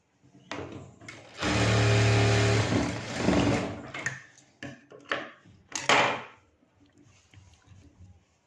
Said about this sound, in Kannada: ಫೋಲ್ಡ್ ಮಾಡಿ ಸ್ಟಿಚ್ ಮಾಡ್ಕೊಳ್ಳಿ.